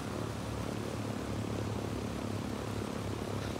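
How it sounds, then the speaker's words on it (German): Transport airplane droning in flight in Ghost Recon Wildlands, a steady propeller engine roar that stays constant and full throughout, with no talking. "Aber fliegt recht schnell das Flugzeug, ne?"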